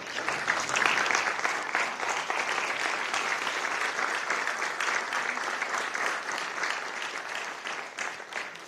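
An audience applauds City of Richmond employees during Mayor Levar Stoney's farewell address, a full steady round of clapping from a large crowd that fades slightly near the end, with no talk over it.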